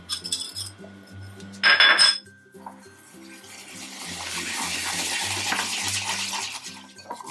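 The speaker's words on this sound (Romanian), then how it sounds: "Punem într-un castronel zahărul și untul așa un pic topit și amestecăm bine." A spoon stirs sugar and slightly melted butter in a small bowl for a pineapple upside-down cake: a few bright clinks against the bowl, then a steady, close scraping swirl that grows fuller, with a faint kitchen hum underneath.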